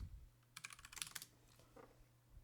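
Typing on a computer keyboard, a quick run of close, soft key clicks in the middle followed by a few scattered taps, over a low steady hum.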